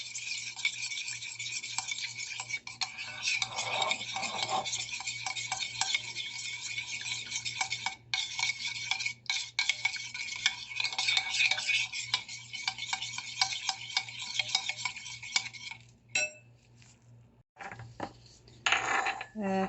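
Soy sauce mixture stirred in a pan, a steady scraping and clinking of utensil against metal with a faint sizzle running underneath for most of the stretch, breaking off briefly near the end.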